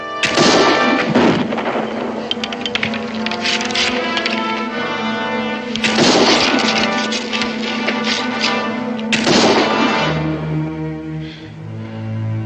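Three loud rifle shots crack out in a Western setting, spaced several seconds apart, each with a sharp attack and a ringing, echoing tail, with a low rumble near the end.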